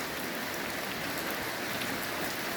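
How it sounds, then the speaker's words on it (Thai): Rainwater pours steadily into a snail pond at a backyard snail-raising farm, a dense, even hiss of falling drops that holds at one level throughout with no voices. "การเพิ่มน้ำแบบง่าย ๆ นะ คือน้ำฝน ในบ่อหอย บ้านสมใจกัน"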